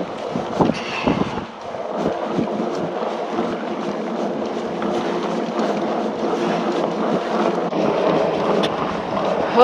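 Steady wind gusts buffet the microphone during a New Year's Eve day ride on a fat tire bike, a continuous broadband rush that swells and eases throughout with no talk.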